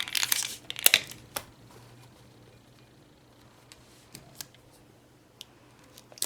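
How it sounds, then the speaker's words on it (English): A strip of tape torn off a roll while making a beaded friendship bracelet, a couple of sharp crinkly rips at the start followed by faint scattered handling clicks. "Just give that a nice good piece of tape."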